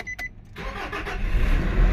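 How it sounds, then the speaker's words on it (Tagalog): A 2019 Nissan Navara EL 4x2 automatic starts up: a brief beep, then the engine catches and settles into a steady, close idle rumble that builds over about two seconds. "So pandaron sa nato ang makina Sir Jomar."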